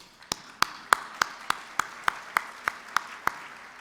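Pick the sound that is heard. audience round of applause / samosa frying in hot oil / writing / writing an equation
audience round of applause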